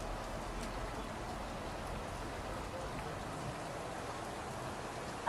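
Rain falling during a storm in the UAE, a continuous soft hiss of drops on surfaces, faint and even throughout, with no distinct thunder.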